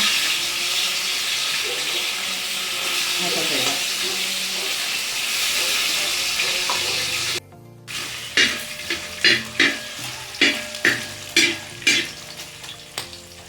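Mustard seeds and coconut fry for beef curry, first as a continuous hot sizzle, then giving way to sharp, rhythmic pops and stirring knocks close by.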